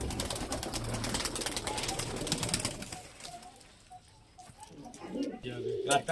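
Pigeons offered for sale coo softly in the background while people talk close by, with a dense rustling clatter in the first half that fades into quieter cooing and chatter.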